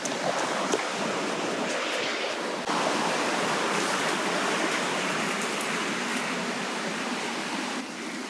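Gumsuda waterfall in Nepal rushes in a constant, dense roar of falling water, heard fairly near and steady throughout with no voices.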